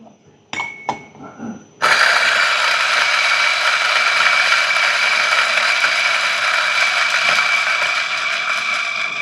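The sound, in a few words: DF54 coffee grinder grinding roasted coffee beans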